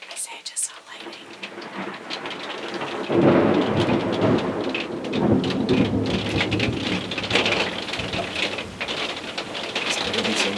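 Heavy rain pours steadily during a thunderstorm, with rolling thunder building loud and close from about three seconds in and dense broadband patter continuing throughout, heard from inside a vehicle at a hog hunt.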